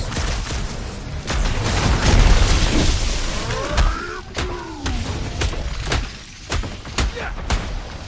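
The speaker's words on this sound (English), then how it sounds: "Bust out the smart bombs!" Smart bombs exploding in the Guardians of the Galaxy video game: a rolling barrage of booming blasts and sharp thuds, loud and close, with game voices and effects layered throughout.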